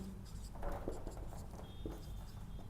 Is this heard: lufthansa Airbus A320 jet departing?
no